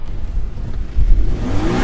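A 2022 VW Golf R launches in a drag race, its engine revving loudly from a low rumble with a brief surge and a rising tone, close and alone without talk.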